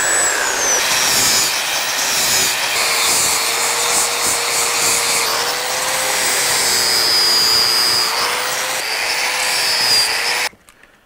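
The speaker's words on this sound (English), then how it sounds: "usually these blades just tear through wood" A power tool blade cuts steadily through dense wood while a lamp is being built, giving a loud, continuous grinding buzz with a faint steady whine that runs for about ten seconds before stopping abruptly.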